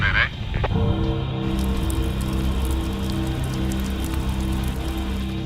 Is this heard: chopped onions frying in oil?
no